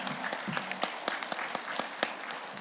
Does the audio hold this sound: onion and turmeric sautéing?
no